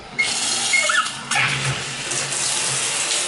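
Shower running in a small bathroom of an apartment, a steady strong hiss of water spraying at good pressure with a brief shift as the stream changes, close and continuous throughout.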